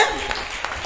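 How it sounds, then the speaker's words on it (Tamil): Congregation at a Tamil Christian Sunday church service clapping together, a dense burst of applause from a crowd in a hall, brief and steady. "கைதட்டுவோமா எல்லாரும்?"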